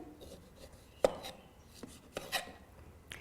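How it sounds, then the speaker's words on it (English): A knife slices the rind off a lemon in a few quiet, separate cuts and scrapes, one sharper stroke standing out among softer ones. "Make a flat top and bottom and simply peel it down the lemon."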